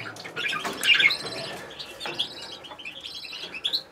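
Canaries chirp and tweet in quick, bright bursts, with short squawky calls scattered throughout, fairly close.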